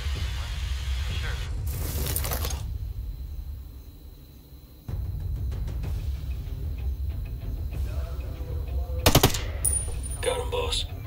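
Gunfire in the tactical shooter game Ghost Recon Breakpoint: a couple of sharp broadband shots around two and nine seconds, standing out over a steady low rumble and ambient game noise.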